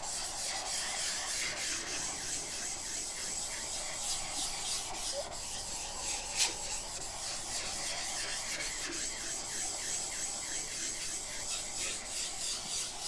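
A vegetable cutter plate for shredding cabbage is rubbed in circular motions to clean it, making a steady, close rasping scrub with a gently pulsing rhythm that runs without a break and without talk.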